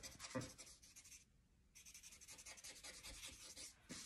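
A charcoal-loaded blending stump rubs over a drawing of an owl on tan-toned paper, giving soft close scratchy strokes with a short pause and no talking.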